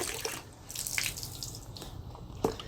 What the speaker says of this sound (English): And it's still draining the water.